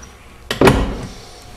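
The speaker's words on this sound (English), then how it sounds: "The doors do open and close real nice." Door of a '28 Ford Roadster street rod swings and shuts with one sharp, close latch clunk that fades away quickly, no talk around it.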